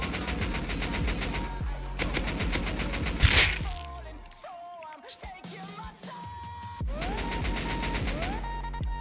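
Bursts of automatic AK rifle fire in a survival shooter game, rapid rattling volleys up close, then a pause with scattered clicks and tones before another sustained burst.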